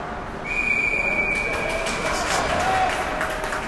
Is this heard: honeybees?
no